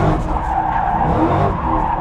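A Ford F100 pickup with a swapped-in GT500 engine drifts, its tires squealing loudly and continuously while the engine surges under light throttle blips, close by.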